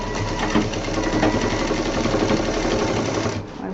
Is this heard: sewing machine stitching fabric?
yes